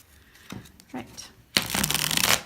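Tarot cards being shuffled by hand: a couple of faint riffles early on, then a loud, dense burst of rapid card flutter for about a second near the end.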